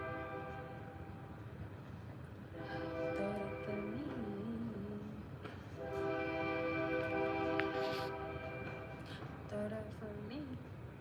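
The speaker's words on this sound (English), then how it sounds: "You hear the train?" A train passes in the distance, its horn sounding in two long sustained blasts over a low rumble, faint and steady throughout, with a voice briefly audible.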